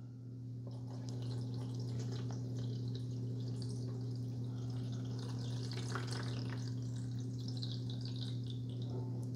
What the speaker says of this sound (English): pour your water in here now.